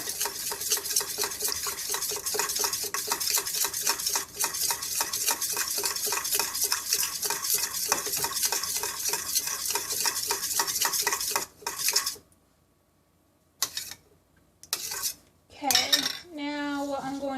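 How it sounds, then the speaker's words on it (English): A spoon stirs a pot of lentil sloppy joe mixture, scraping the sides in fast, steady, rhythmic strokes for several seconds. After a short pause come a few louder scrapes and clinks of metal against the pot. "Make sure to scrape the sides to get all the components in there."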